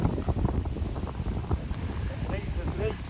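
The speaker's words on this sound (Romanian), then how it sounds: "bate vântul" Gusty outdoor wind rumbles and buffets steadily throughout, a low roaring wash with no pauses, on a grassy bank of the Danube while fishing.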